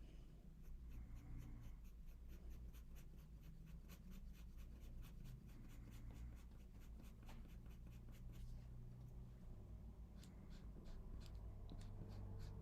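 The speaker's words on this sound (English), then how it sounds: "Here I'm just erasing it." An eraser rubs unwanted pencil lines off a realistic bunny sketch: faint, rapid, repeated scratchy strokes on paper, close up and quiet, with no talk.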